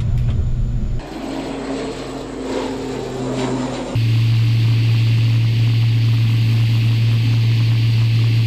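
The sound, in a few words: Royal Malaysian Air Force CASA C295MW propeller aircraft engines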